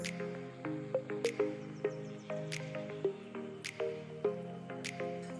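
Ground roasted masala powder being stirred into pepper chicken fry in a pan, with soft wet squishing and sizzling pops and scrapes in an uneven rhythm, close and fairly quiet.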